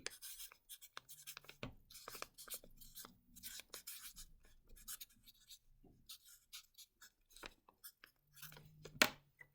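A pen scratches across a handmade paper pull-out card as a message is written, in short rubbing strokes with brief pauses, close and quiet with no talking.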